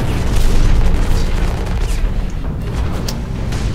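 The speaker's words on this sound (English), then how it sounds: "Just toss a frag over there that way." A frag grenade explosion in the mech combat game Hawken, a loud sustained boom with a heavy low rumble that rolls on for several seconds and fades only slightly.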